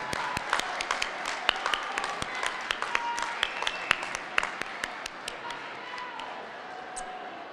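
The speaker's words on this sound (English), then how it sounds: "give a round of applause to all of your friends, family, kids, supporters that brought you to this moment" Commencement audience applause in a large hall, with sharp individual claps popping out over a broad crowd clapping, steady and fairly distant, thinning toward the end.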